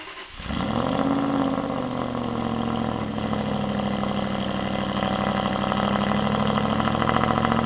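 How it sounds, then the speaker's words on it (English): A powerful naturally aspirated V8 engine in an Aston Martin V8 Vantage running steadily at a low, even rumble, close by and loud, holding a constant idle throughout. "You've just got to be on it a bit more and revving that naturally aspirated engine"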